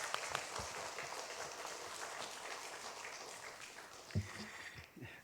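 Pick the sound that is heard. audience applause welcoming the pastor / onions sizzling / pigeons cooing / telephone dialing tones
audience applause welcoming the pastor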